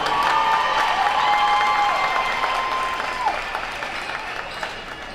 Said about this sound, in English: Let's give Riley a round of applause for her accomplishment.